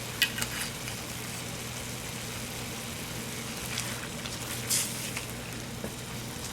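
White wine hits a hot pan of ground beef spaghetti sauce and sets off a steady, close crackling sizzle that holds throughout, with a few brighter pops and spits on top.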